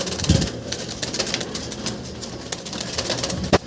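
A pair of blue bar pigeons, male and female, coo softly and low in a pigeon house, a continuous murmuring with a few brief rustles and no talking.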